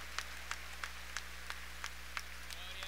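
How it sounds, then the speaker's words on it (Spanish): A congregation claps in rhythm during an evangelical Sunday service in an enclosed coliseum in Chiclayo. The claps are faint and evenly spaced, about three per second, over a low steady electrical hum. "Aplauso para el Señor Jesús, aleluya."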